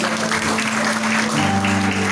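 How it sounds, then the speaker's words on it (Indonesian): Church congregation clapping during a Christmas Day service, a steady dense wash of applause filling the whole moment, with a sustained musical tone, likely organ or keyboard, running underneath. "Tepuk tangan untuk kami."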